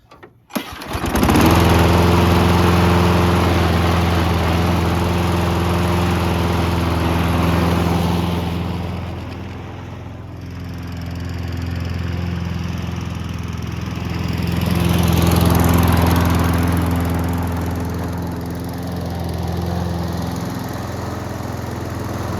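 A Snapper SPV walk-behind lawn mower with a Briggs & Stratton engine runs steadily and loud, its drone swelling and easing slightly over time with no talking.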